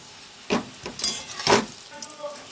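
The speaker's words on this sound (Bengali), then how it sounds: "এইভাবে উল্টে পাল্টে আমরা ভেজে নেবো ভালোভাবে।" Jackfruit kofta balls fry in hot oil, and the sizzle swells in a few short bursts as they are turned over, then settles back to a quieter crackle.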